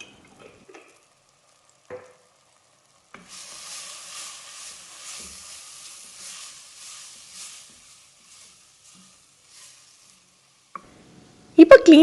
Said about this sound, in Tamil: இதை லேசாக எண்ணெயில் வதக்கி விட்டுறலாம்.